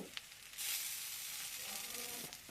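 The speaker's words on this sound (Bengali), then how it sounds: "আলু আর পেঁয়াজ কলিটাকে আমি একটু বেশ তেলের মধ্যে ভাজা ভাজা করে নিয়েছি" Potato and onion sizzling in hot oil with turmeric added, a bright steady hiss that swells suddenly and holds, with small stirring clicks at the start and end.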